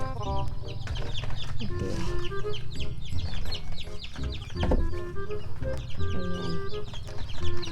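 Native free-range chickens and chicks clucking continuously in a yard, steady overlapping peeps and clucks at close range, with a brief voice speaking over them.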